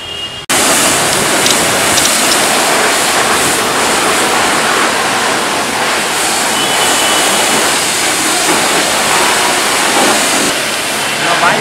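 A pressure washer sprays water hard and steadily over a motorbike during a foam wash, a loud continuous hiss that starts abruptly and holds for the whole stretch.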